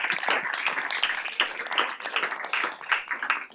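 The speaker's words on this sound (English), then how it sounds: "let's give ourselves a big round of applause for making it this far in the competition" Audience applause at a school pitch competition round, a dense wash of many hands clapping in a room, steady and fairly close with slight rises and falls over a few seconds.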